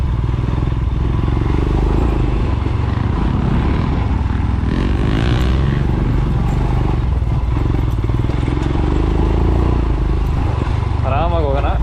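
Motorcycles pass along an offroad trail at Achalu Betta near Kanakapura, a rough engine drone that swells and fades, mixed with people talking throughout.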